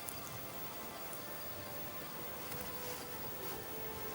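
Steady rain falls across East Africa's Sahel and Upper Nile region, a dense, even patter of drops hissing at moderate level throughout, with no voices.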